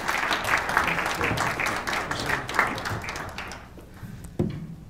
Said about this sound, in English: let's give him a round of robust applause for Mr. Scott Davis.